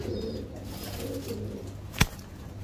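Kalsira Teddy pigeon giving soft, low cooing close by, a steady murmuring coo with a brief sharp knock near the end.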